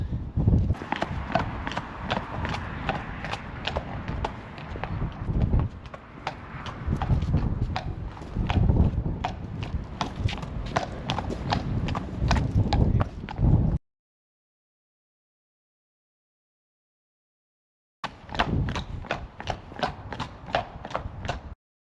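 A horse trots on a firm surface, hooves clip-clopping in a quick, even rhythm at moderate distance, broken by a gap of silence before the trotting resumes.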